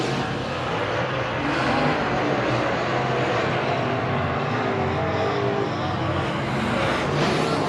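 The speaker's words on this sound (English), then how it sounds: "We are halfway through this first heat race for the Touring Outlaw Modified Series." Touring Outlaw Modified race cars roaring around Heart O' Texas Speedway during a heat race, a loud continuous wash of engine noise from the pack with no pauses.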